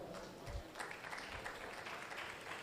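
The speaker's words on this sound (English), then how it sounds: "a round of applause for them." An audience at the Technext blockchain conference in Africa applauds panelists, giving faint, steady crowd clapping heard from a distance across a large hall, with low thumps underneath.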